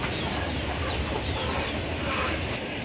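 A flock of chickens inside a farm shed clucking and murmuring continuously in a dense, busy background din, with no single bird standing out.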